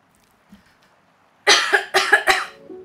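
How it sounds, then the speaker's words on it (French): A person coughs several times in a quick, close burst of harsh rasping bursts after a near-silent start, the coughs loud and dry with a brief throat-clearing tail. "il fallait vraiment que, vraiment que je tousse là"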